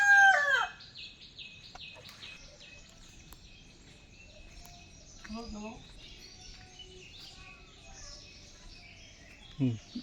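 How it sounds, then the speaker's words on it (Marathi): Village rooster in a quiet Konkan island settlement crowing in short bursts, a loud call at the start and fainter ones later, with chirping birds and ambient noise around. "मास्टर गावरानी कोंबड्या पण आहेत तिथं. कोंबडा बसला तिथं लपून."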